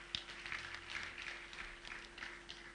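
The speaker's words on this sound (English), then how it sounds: "Professor AOE Animalo, please, an applause for him." A crowd at a university inaugural lecture claps steadily, the applause soft and somewhat distant, a sustained patter of many hands with no break.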